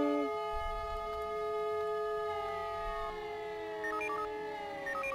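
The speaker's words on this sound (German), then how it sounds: "Als erstes wollen wir mal eine Sirenenprobe durchführen." A civil defense siren test in the Emergency 4 video game winds down, its loud steady wail slowly sinking in pitch, with short electronic control tones chirping near the end; no voices.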